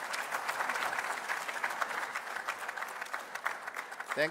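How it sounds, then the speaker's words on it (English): Sustained applause from the audience at a Namibia–Botswana plenary session, even and fairly distant, with voices faintly underneath and a brief sound at the very end. "Another resounding round of applause."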